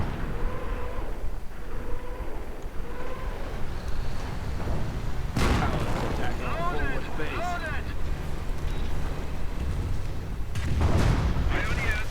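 Nebelwerfer rocket artillery fires in a real-time strategy battle game, heard as a couple of loud whooshing rocket launches and booms amid battle noise, with someone talking over it.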